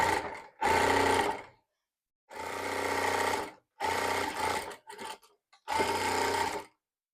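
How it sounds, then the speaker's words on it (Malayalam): An electric sewing machine stitches a folded four-inch waistband in four loud, steady runs of whirring, separated by short pauses and a few brief starts. "വേസ്റ്റ് ഭാഗത്ത് 4 ഇഞ്ച് മടക്കിയിട്ട് സ്റ്റിച്ച് ചെയ്ത് കൊടുക്കാം"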